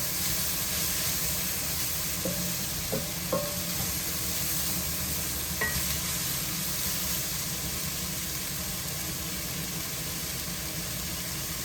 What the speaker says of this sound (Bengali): চুলার জালটা একদম কমিয়ে খুব আস্তে আস্তে আমি পেঁয়াজগুলো ভেজে নিচ্ছি